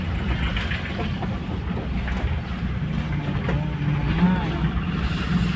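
A garbage truck, already unloaded, runs near a dump yard with a steady low engine rumble that holds throughout under outdoor background noise.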